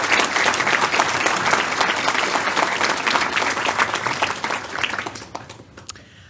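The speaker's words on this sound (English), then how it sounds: "So let's give her a round of applause" At a school board meeting, an audience gives a student a round of applause; dense, lively clapping that fades away toward the end, leaving a few scattered final claps.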